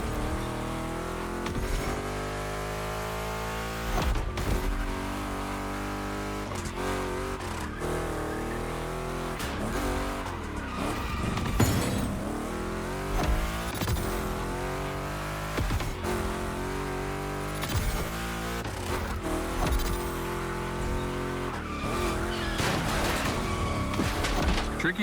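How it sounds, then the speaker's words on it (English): Two Chevrolet big-block cars race in The Crew Motorfest, engines roaring and revving continuously, with shifting pitch sweeps, bursts of acceleration and occasional tire squeal, loud and close throughout. "Two Chevys, two big blocks, but only one winner."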